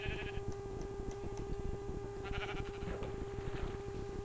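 Sheep in Minecraft hardcore mode bleat a few times, short quavering bleats over a dense, steady background of game noise with faint ticking, loud and continuous.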